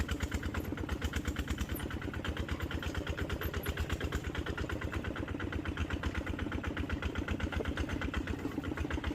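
A motorcycle engine runs steadily while riding along a high rural road, its rapid, even low-pitched firing pulses continuous and close for the whole stretch, with no talk over it.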